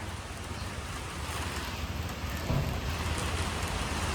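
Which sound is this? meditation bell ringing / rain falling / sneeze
rain falling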